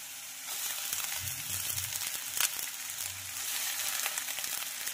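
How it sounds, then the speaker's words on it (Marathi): Onion and tendli (kundru) frying in oil, a steady moderate hiss with faint stirring and a sharp clink near the middle, heard close. "तर कांदा फ्राय करून घेऊया"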